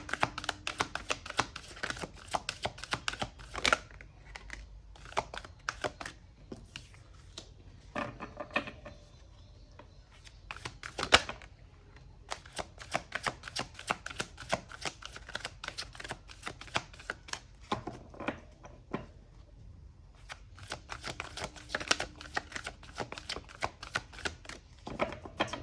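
A deck of tarot cards shuffled by hand in long bursts of rapid, crisp flicking and riffling, with short pauses between runs, close-up and without talk.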